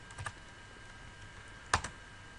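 A few keystrokes on a computer keyboard while a password is entered, heard as two small pairs of soft, close clicks separated by a pause, in a quiet room with no speech.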